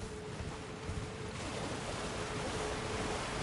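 A waterfall in a boss area of the video game Elden Ring, a steady roar of rushing water that fills the scene at low level, unbroken and without voices.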